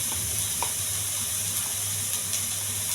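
Onions with curry leaves and green chillies fry in a pan, giving a steady soft sizzle with faint stirring and a low background hum throughout.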